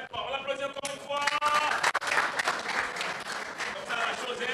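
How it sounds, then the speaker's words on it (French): An audience at a youth center talk on public speaking claps for a woman, the applause swelling after a moment of speech and continuing as a dense, crackling burst under scattered voices. "on l'applaudit encore une fois"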